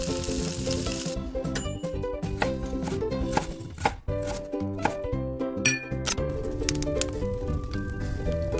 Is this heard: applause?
no